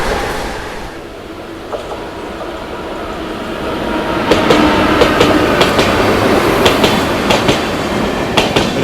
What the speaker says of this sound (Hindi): क्या जबरदस्त भाग रही है प्रायोरिटी पे लोकल।